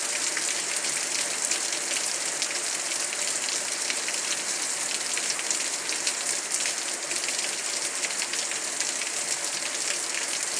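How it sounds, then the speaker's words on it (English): Heavy rain on a Sunday morning pours down in a steady, dense, even hiss, loud and close throughout with no breaks and no voices. "the sounds of the rain is just a little too heavy"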